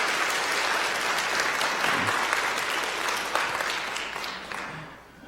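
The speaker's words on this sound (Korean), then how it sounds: "여러분들 따뜻한 환영의 박수 부탁드리겠습니다" Warm applause from a church congregation welcoming new members at a Sunday service, a dense steady clapping that fills the room and then fades out near the end.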